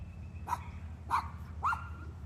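A dog barks three times in a slow, evenly spaced series, fairly close, over a steady low background hum.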